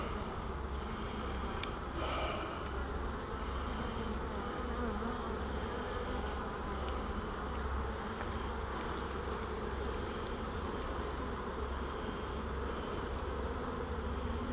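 Honeybees fill an open hive with a dense, steady buzzing that stays close and constant throughout, with no voices over it.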